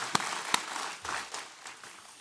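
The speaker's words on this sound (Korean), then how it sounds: "박수로 하나님께 드리겠습니다." Congregation applause during a church worship service, a few sharp claps up front followed by a thinner, fading patter of hands, fairly quiet and short.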